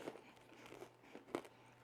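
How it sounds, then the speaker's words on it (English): A bite into a piece of roasted almond toffee gives a crisp crunch, with a few small snapping cracks and one sharper, louder break, close and fairly quiet. "You guys hear that crunch?"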